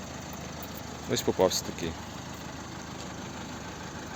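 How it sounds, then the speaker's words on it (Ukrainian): A 2018 Opel Astra K with a 1.6 litre, 84 kW diesel engine idles quietly and evenly, a low steady hum that continues beneath a short stretch of someone talking. "Автомобіль заведений рівно тихо працює"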